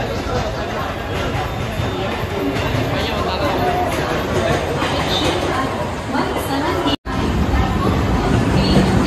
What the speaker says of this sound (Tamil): நம்ம காரைக்கால்லேருந்து வந்த ட்ரெயின் நம்மளை இங்கே இறக்கி விட்டுட்டு போயிட்டுருக்கு.